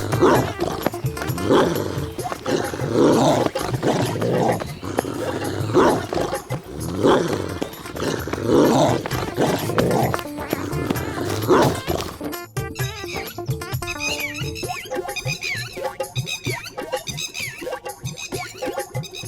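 A cartoon dog growls and roars loudly during a frantic chase, with animated sound effects and a music-like change partway through.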